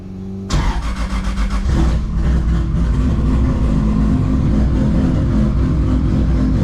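A truck engine cranks and catches abruptly, revs briefly, then settles into a loud, steady, rumbling idle close by.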